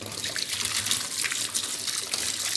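Tap water runs steadily over a handmade copper and brass ring during rinsing, a continuous close splashing trickle with no speech.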